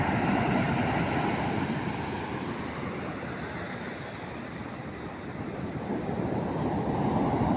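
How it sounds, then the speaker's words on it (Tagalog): Sea waves surge up toward seaside houses in a continuous, loud rush of surf mixed with strong wind buffeting the microphone, swelling and easing slightly over the span with no talk. "bumangon yung dagat na yan na maabot dun sa kabahayan"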